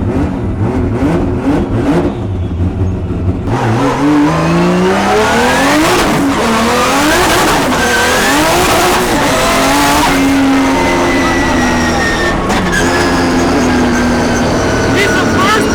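Adam LZ's 1000HP pro drift car revs hard to the limiter in second and third, loud rising and falling engine sweeps with bouncing limiter bursts, heard close with voices talking over it.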